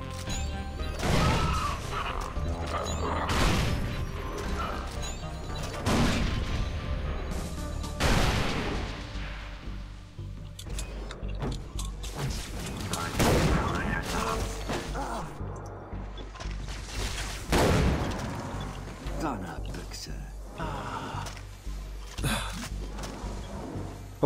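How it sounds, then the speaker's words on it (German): Grenade blasts and gunfire in the shooter Far Cry 3 Blood Dragon, with repeated heavy explosions spaced a few seconds apart between bursts of shots and impacts. Someone talks intermittently over the action. "Machen wir es wieder mit Granaten."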